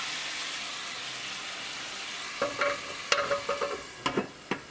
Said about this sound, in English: The salmon is still cooking on simmer